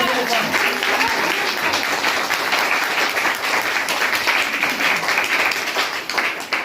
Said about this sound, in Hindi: बिल्कुल जोरदार तालियां।